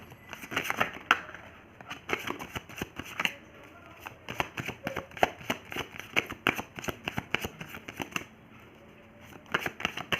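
Tarot cards being shuffled by hand, a dense run of crisp riffling and flicking strokes in quick uneven bursts with short pauses between, close and fairly loud, with no talking.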